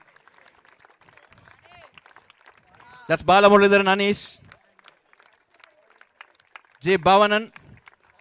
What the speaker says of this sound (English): Let the claps, let the applause continue.